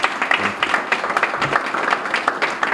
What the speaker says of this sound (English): I wish you'd give them a round of applause.